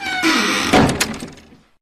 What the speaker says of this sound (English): the Doctor pulled the lever again. The doors closed.